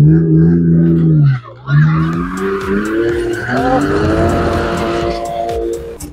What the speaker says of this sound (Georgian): წავედით ახლა დრიფტზე.